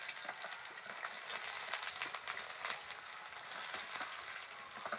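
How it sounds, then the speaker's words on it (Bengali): Chopped onions frying in hot white oil in a village-style kitchen, a soft continuous sizzle with faint crackles and occasional stirring, quiet and steady with no voices. "পেঁয়াজটা ভালো করে প্রথমে ভেজে নেব।"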